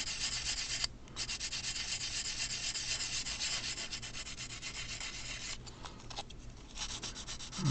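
Steady, close scratchy rubbing as panel lines are removed from a model, a fine abrasive scrubbing back and forth continuously with a couple of brief pauses, no voices.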